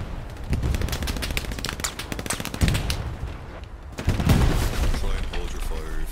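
Rapid bursts of gunfire and heavy battlefield fire from the World War II shooter Hell Let Loose, with possible tank fire, sounding continuous and loud with sharp repeated cracks and booms; a voice may be faintly present.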